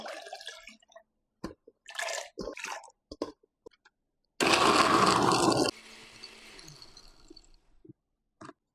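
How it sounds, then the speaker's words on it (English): A kitchen blender whirs loudly for about a second, blending coconut with water, then drops to a quieter spinning whine before stopping, between scattered clinks and handling noises. "Now I'm going to blend it to the blender."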